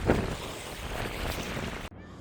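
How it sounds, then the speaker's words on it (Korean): Strong wind roars across a microphone at sea aboard a small fishing boat out for gizzard shad, a loud, steady broadband rush that drops off sharply near the end. "아유, 바람 장난 아니네요"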